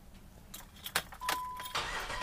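A 1980s McLaren Mustang is started up: a few sharp clicks and key jangles come first, then the engine catches and settles into a loud, steady rumble that briefly surges near the end.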